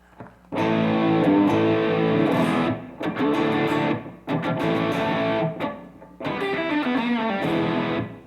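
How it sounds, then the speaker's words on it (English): Distorted electric guitar plays chunky classic rock chords in three sustained phrases, loud and gritty with brief gaps between them. "turn our distortion pedal on, and I'll show you basically more of a classic rock sound"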